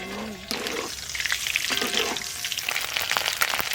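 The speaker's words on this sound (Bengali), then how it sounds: "এইরকম ভাবে ডিম কিন্তু বেশ ভালো করে একটু ভাজা ভাজা করে নিতে হবে।" An egg sizzles and crackles steadily in a hot pan of oil during home cooking, after a brief voice at the start.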